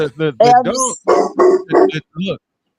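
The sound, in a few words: dogs barking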